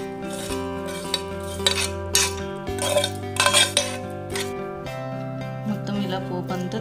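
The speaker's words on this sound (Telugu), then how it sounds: "దీనిపై మొత్తం పోపు వేసుకోవాలి." Tempering is spooned over cut sandwich dhokla, with irregular clinks and scrapes of a spoon against a metal pan and dish, close by over steady background music.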